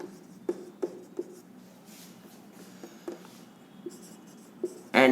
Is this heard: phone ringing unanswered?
no